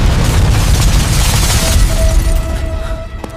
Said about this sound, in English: Suddenly, a missile hit from the sky and destroyed a...